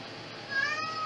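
Cat meowing insistently near a person who is drawing, one drawn-out meow rising in the second half, fairly close and alone over a quiet room.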